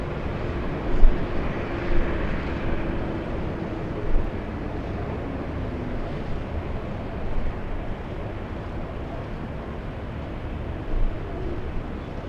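A Delta Airbus A350 taxiing at Los Angeles International Airport, a steady low broadband jet rumble with wind noise, fairly distant and even, with a few soft bumps and no talk.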